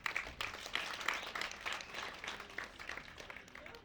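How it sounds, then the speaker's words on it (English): An audience at a half marathon ceremony gives a round of applause, faint and somewhat distant clapping that swells and thins over a few seconds. "another round of applause, please"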